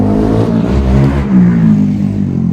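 A motorcycle revs as it passes close by, a loud, continuous engine roar rising and falling over about two and a half seconds with no talk.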